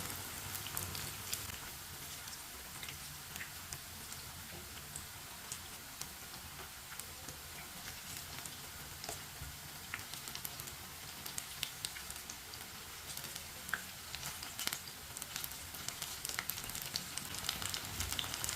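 Crispy aloo pakoras frying in hot oil, a steady close sizzle with fine crackling pops throughout, fairly quiet and without talk.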